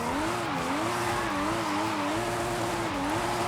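Steady wavering tire squeal over a droning engine as a car drifts in Forza Horizon 5, loud and continuous throughout the slide with no talk.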